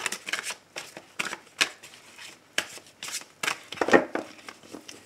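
Tarot cards being shuffled for a Sunday reading, repeated bursts of close riffling and flicking in uneven rhythm, separated by short pauses.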